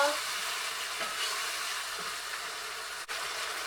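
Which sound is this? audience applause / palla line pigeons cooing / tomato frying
tomato frying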